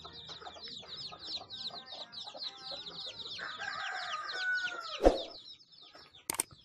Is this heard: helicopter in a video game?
no